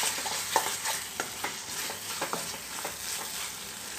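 Masala sizzling and being stirred in hot oil for an oil brinjal gravy, with steady frying hiss broken by scattered spoon scrapes and small pops, close and moderately loud with no talking.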